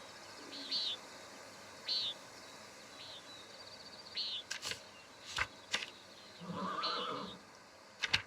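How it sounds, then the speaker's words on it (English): Horses in the medieval setting of the video game Pentiment give several short, fairly faint whinnies spread through the stretch, with a few sharp clicks and a louder rustling burst later on. "Don't imitate the horses, Ronnie."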